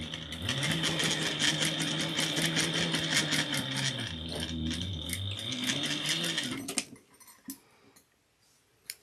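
A sewing machine stitches across fabric in a fast, steady mechanical rhythm for several seconds, close and loud, then stops, leaving a few faint clicks and handling noises.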